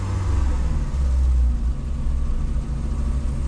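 A Volkswagen Golf 2 engine runs close by, revving up with a rough, unsteady note that dips and rises again, steady and loud throughout with no talking.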